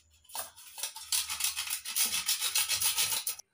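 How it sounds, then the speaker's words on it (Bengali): Whole nutmeg grated by hand into powder for balushahi sweets, a series of quick, close scraping rasps in a steady back-and-forth rhythm, faint and dry, with no talking. "জায়ফল নিয়েছি, জায়ফলের হাফ গুঁড়ো করে নেব"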